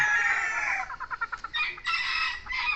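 A fighting broodcock crows once, loud and close, a long strained call that rises and breaks into a rough, stuttering tail.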